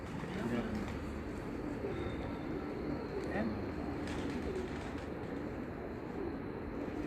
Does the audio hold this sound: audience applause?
no